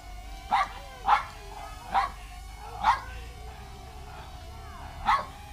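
A dog barks at a small camera drone flying around a garden, giving five separate sharp yips spaced about a second apart, moderately close, over a faint steady motor whine.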